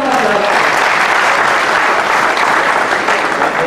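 Loud, dense audience applause at an award ceremony of a national conference, a continuous roar of many hands clapping at full strength for the whole stretch, with no voices on top.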